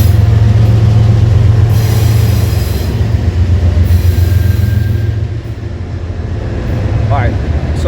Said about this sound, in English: sorry guys, comes a train